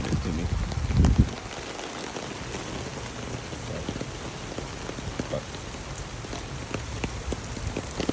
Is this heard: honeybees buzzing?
no